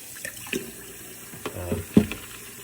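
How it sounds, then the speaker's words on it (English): Something stained red being rinsed under a running kitchen tap, a steady low stream of water broken by several splashy bursts and drips close by. "I'm just going to rinse it for now"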